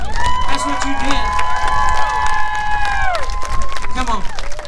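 Children and adults cheer and shout together in a group, loud and close, with high sustained yells that fade and then pick up again briefly.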